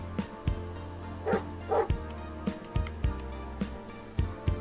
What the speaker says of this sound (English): This dog is following me. Woof!